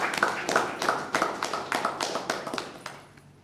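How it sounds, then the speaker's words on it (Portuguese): Guests at a civil wedding ceremony applaud the newly married couple, a small group clapping in quick, distinct rhythmic bursts that fade out toward the end. "Uma salva de palmas para eles."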